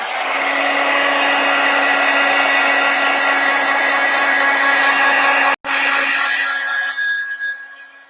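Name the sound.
dryer drying wet craft medium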